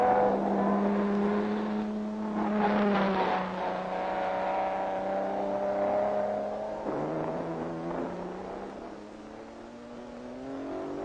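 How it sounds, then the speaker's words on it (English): Racing engines of a Ferrari and an Aston Martin at Le Mans in 1959 drone loudly and steadily, pitch rising and falling as the cars run through the bends and shift, with no voices over them. "On the 18th lap, Behra's Ferrari drifts through the S's ahead of Aston Martin number 4"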